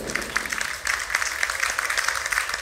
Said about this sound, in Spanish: Este vídeo merece un aplauso